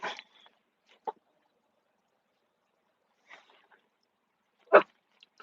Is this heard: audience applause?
no